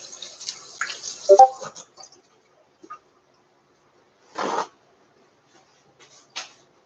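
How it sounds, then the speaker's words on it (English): Water from a tap runs in short splashes while hands are washed, with a couple of brief gushes and soft drips between quiet gaps, close by. "Wash your hands."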